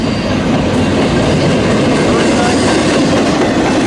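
Freight train of empty railcars rolling east past a rail yard, a loud, steady, continuous roar of wheels and cars close by with faint clickety-clack throughout.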